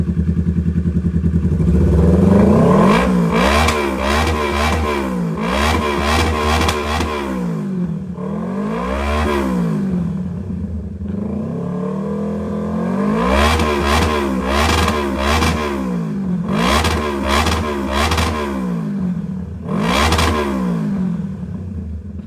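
A sport motorcycle from a group of Honda CB650R, Triumph Trident 660 and Kawasaki bikes revs hard through its exhaust in repeated loud, close bursts, each climbing and falling between idle rumbles.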